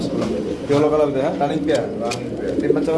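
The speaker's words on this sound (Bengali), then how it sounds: "এটা কি কবুতর এটা হচ্ছে কবুতর পারবিন পারবিন পারবিন কবুতর" Pigeons at a pigeon farm coo in low, rolling calls, close by and mixed under someone speaking over them.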